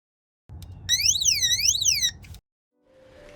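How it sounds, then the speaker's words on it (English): Owl-style driveway alarm transmitter rated at 120 decibels sounds a loud electronic siren that sweeps up and down in pitch for about two seconds, then cuts off abruptly. "the owl transmitter will send out a 120 decibel sound alarm and flashing light alarm at the same time"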